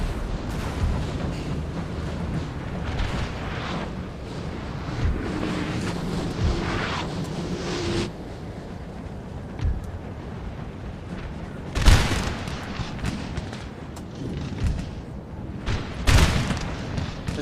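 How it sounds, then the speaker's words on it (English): Artillery barrage on a Napoleonic battlefield in Napoleon Total War: repeated deep booms and crackling volleys, a few close blasts standing out over a continuous rumble of distant fire. "And there's barrage on those bastards."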